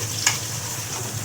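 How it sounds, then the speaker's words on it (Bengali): Potatoes fry in hot, spattering oil, giving a steady, close hiss of sizzling throughout, with one sharp pop near the start. "আওয়াজ শুনতে পাচ্ছ কিনা জানি না, ফোনে ক্যাপচার হচ্ছে কিনা, বাট যা ছিটাচ্ছে না, বাপরে বাপ"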